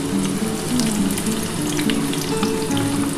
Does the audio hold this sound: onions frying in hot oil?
yes